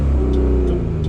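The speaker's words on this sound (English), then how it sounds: "And sorry, I revved it up a little too much." A 1988 Chevy Sprint Metro engine is revved hard at close range, a loud, steady buzzing drone with strong low harmonics sustained throughout.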